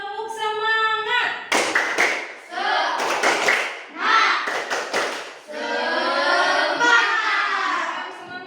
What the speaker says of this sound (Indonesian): kita tepuk semangat dulu ya, biar semuanya semangat